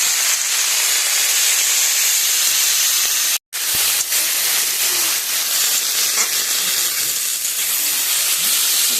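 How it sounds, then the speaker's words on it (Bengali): Greens fry with salt in a pan, giving a loud, continuous, close hiss like steam that cuts out for a split second midway, then carries on unchanged. "সাথে দিয়ে দিব পরিমাণ মতো লবণ। এবার এটা খুব ভালো করে ভেজে নেব।"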